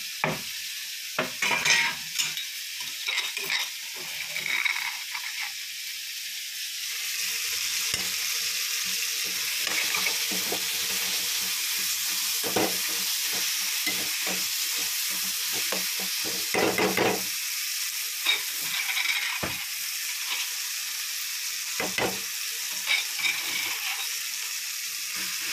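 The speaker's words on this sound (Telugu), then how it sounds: "ఆవాలను ఇది పోపులు కదా వేగిపోతుంది" Mustard seeds, crushed garlic and green chili spluttering in hot oil in a pan, a dense continuous sizzle broken by sharp popping crackles and occasional utensil clinks, with no voices.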